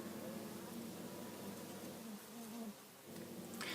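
Honey bees working at a hive in summer, a soft continuous buzzing hum from many insects close by, low in level with faint background noise and a brief dip in the drone partway through.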